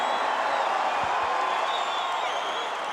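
Ovation for wrestler Paul Orndorff standing on the top ropes at a WWF Prime Time Wrestling event, a dense, steady roar of a large arena crowd cheering and applauding throughout, sustained and loud.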